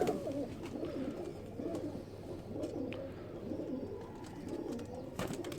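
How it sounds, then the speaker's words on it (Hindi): A Ferozpuri pigeon coos in soft, repeated low phrases, close by, with faint background noise and no talking. "ये फिरोजपुरी कबूतर है जी, ये देख लें।"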